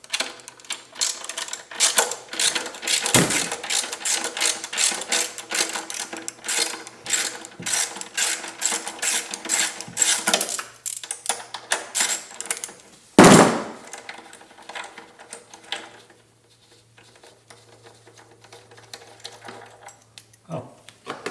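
A ratchet loosens engine bolts on a Jeep Grand Cherokee WK V6, giving rapid rhythmic clicking that runs in bursts for several seconds. A sharp clunk follows, then the sound fades to near quiet.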